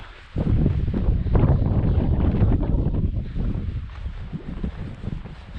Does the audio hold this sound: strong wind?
yes